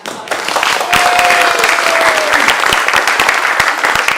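Audience applause at a one-man comedy show, loud dense clapping that starts suddenly and holds steady for about four seconds, with faint crowd voices underneath.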